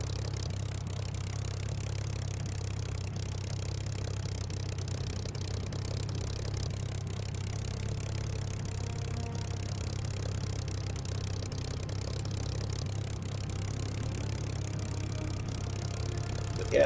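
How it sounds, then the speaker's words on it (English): A Rolls-Royce Merlin aircraft engine in Microsoft Flight Simulator drones steadily in flight. A constant low, even hum carries throughout with no change in pitch and no voices. "Gotta love the engine, just the nice dulcet sounds of the Merlin."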